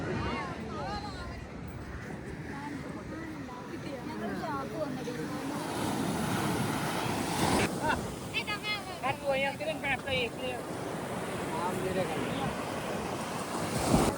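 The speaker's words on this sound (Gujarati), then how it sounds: "આ દરિયાના મોજા તમે જુઓ" Sea waves washing onto Golden Beach at Poovar Island, Kerala, a steady rushing surf with wind buffeting the microphone throughout; voices talk over it.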